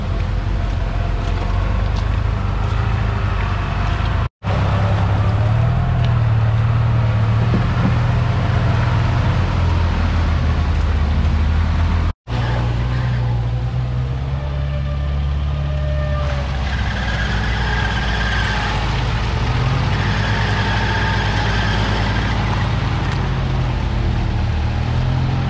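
A UAZ off-road vehicle on straight axles drives through thick mud, its engine a loud, steady low rumble close to the microphone with wind buffeting, rising slightly in revs toward the end.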